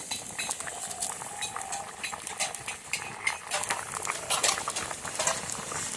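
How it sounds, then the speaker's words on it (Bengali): A pot of fish curry broth bubbles on the stove, with a steady crackling, popping simmer and small clinks, close by with no voices. "ঝোলটা ফুটে উঠে গেছে"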